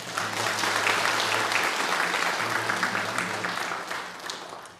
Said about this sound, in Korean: 뜨겁게 한번 박수하고